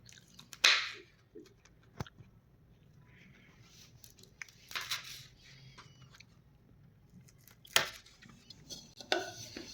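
Green chillies are slit through the middle with a knife for pickle, heard as a few sharp, irregular cutting clicks and crisp snaps against a board, with quiet handling between them.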